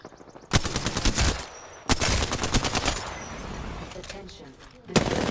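Video game gunfire crackles in rapid automatic bursts, loud and close, with several sharp volleys separated by short gaps, while a voice talks underneath.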